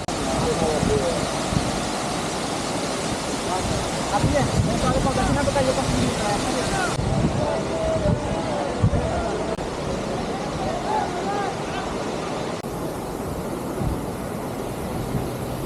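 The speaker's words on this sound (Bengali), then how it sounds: "মেশিন লাগানো সামনে মেশিনের পানি দিয়ে ঝর্ণা ওই যে পানি উদয় আবার নিচে নামে" A machine-driven artificial fountain by a lake splashes in a continuous broad wash of falling water, with people chattering in the background.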